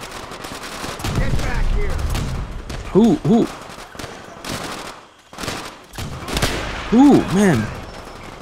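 Gunfire in the Call of Duty: World at War campaign, with bursts of shots and sharp impacts and explosions scattered through the clip, mixed with in-game voices and a player talking over the action.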